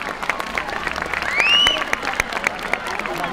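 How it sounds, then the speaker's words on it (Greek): Outdoor crowd applause at a Christmas tree lighting in Lamia, Greece, moderate clapping with a brief whistle rising over it, mid-distance and steady, fading slightly toward the end. "Ένα χειροκρότημα σε αυτούς τους ανθρώπους"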